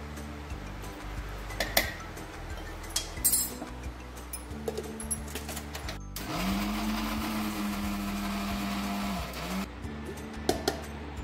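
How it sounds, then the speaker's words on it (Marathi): A mixer grinder blends mint leaves, salt and water into a fine paste for raw mango panha, a loud steady whirring run of several seconds with clinks and taps of the jar before and after. "मिक्सरला लावून बारीक करून घ्यायचं आहे."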